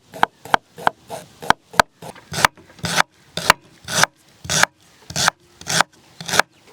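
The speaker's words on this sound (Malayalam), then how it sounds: "ഇനി നമ്മുടെ ഇഞ്ചി എടുത്ത് കുനാന്ന് അരിഞ്ഞെടുക്കാം കേട്ടോ." Ginger being finely chopped with a knife, a steady series of close, sharp cuts repeating roughly every half second with no talk.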